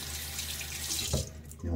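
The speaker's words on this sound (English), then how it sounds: "Let's add just a little bit more water." Tap water runs steadily into a shaving bowl while Gibbs No 17 soap is being lathered, a continuous close splashing stream that shifts in tone near the end without talk.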